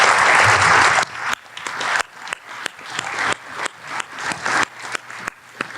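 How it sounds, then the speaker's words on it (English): A crowd at a Concord town meeting breaks into dense, sustained applause that thins into scattered, uneven clapping, with a few claps standing out near the end. "Another exception to the no clapping rule."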